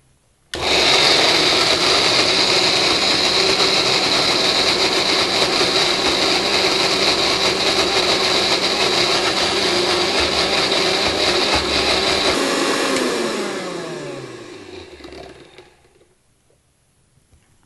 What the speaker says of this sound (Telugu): ఇప్పుడు దీన్ని మిక్సీ చేసుకుందాం